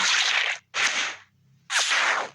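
Three loud, sharp bursts of gunfire ring out in a video game, broad and harsh with short tails, separated by brief gaps and a faint low hum in between.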